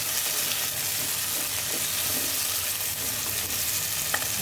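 Tomatoes sautéing in a pan, a steady dense sizzle with soft crackles running throughout, close and continuous with no voices over it.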